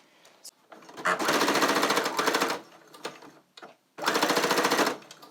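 A sewing machine stitches fabric for a kente print scrunchie in two loud, rapid bursts of mechanical rattling separated by short pauses, with a faint click between them.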